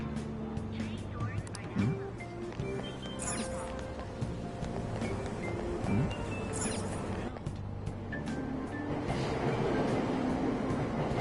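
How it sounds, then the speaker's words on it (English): A Tokyo subway train pulls out of the station in Persona 5, rumbling and rattling with rising engine noise, under platform announcements and ambient crowd sound. "Train doors are now closing. Please stand back."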